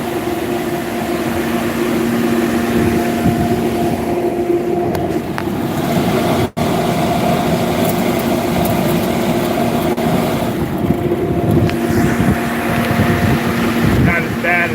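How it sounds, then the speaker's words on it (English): A machine runs at its top RPM while shaking with heavy vibration. The drone is steady and loud, with strong low tones and broadband rattle, and a voice speaks over it. "it's got a lot of vibrations right there. That's probably the max RPMs it gets to"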